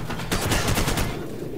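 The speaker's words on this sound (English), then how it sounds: "I'm shooting the fucker in the cockpit that we're supposed to be saving." Rapid bursts of automatic gunfire from Call of Duty 4 during a crash-site rescue mission, dense and loud throughout with overlapping shots and no speech.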